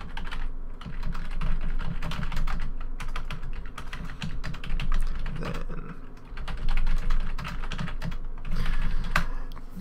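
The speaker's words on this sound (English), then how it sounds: "sorry for the typing" Continuous computer keyboard typing runs close and steady under a man's speech about a Hearthstone Paladin deck, with brief pauses between bursts of keystrokes.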